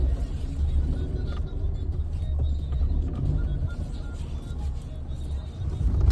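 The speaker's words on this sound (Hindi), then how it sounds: "तो हम अपनी गाड़ी को मोड़ लेते हैं यहाँ पर।" A car slows and turns around on a rough village road, its engine a steady low rumble close by with faint background noise throughout.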